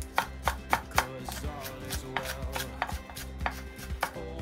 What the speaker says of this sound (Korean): 요렇게 썰다가 또 요렇게도 썰고 섞어서 썰겠습니다.